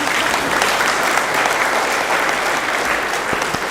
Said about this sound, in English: This clap should be louder than the others.